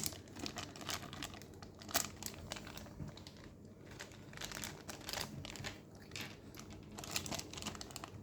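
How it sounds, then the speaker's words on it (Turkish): Close, quiet crinkling of thin plastic, irregular rustles and crackles as a bag from a 1/72 scale Trumpeter T-80BV model tank kit is handled and pulled at. "Poşetleri açamıyorum."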